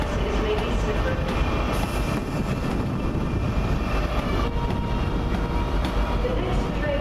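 A UK railway station platform on a wet, rainy day carries a continuous low rumble of train and station noise, steady and moderately loud throughout.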